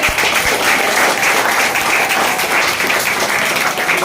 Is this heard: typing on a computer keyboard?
no